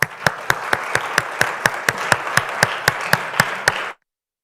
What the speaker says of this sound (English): Let's give these gentlemen one more big round of applause